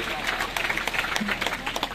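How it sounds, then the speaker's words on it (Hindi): Audience applause for Ranchi at the Jhaan Youth Meet of Daltonganj Diocese in Mahuadanr: a dense, steady patter of hand claps from a crowd, mixed in with a speaker's amplified voice throughout. "रांची ताली बजाइए एक बार रांची के लिए भी।"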